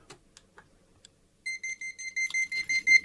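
A few soft clicks, then a rapid series of high-pitched electronic beeps from a Silvercrest key finder alarm in quick pulses, growing louder, close by.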